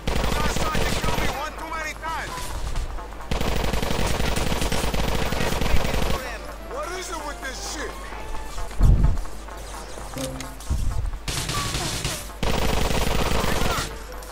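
Bursts of rapid gunfire and explosions from Grand Theft Auto IV, loud and repeated, with music and effects in between and some talking over the top.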